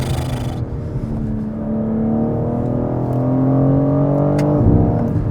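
BMW M4 Competition LCI with a ZF automatic gearbox driving hard, its engine note rising steadily in pitch as it accelerates, loud and close inside the car, no talk.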